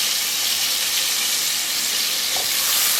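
Chopped tomatoes hit a hot pan for soya khichdi, setting off a loud, steady sizzle and hiss of frying close by that lasts the whole moment, with no voice over it.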